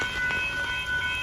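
A northbound Amtrak Texas Eagle passenger train passes a road crossing at Dittmar Road in Austin, Texas, giving a loud, close, continuous rolling rumble with a sustained tonal ring above it, and no talk.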